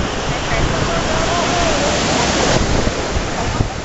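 Surf rolling onto Manly beach, a loud continuous roar of breaking waves close by, with wind buffeting the microphone.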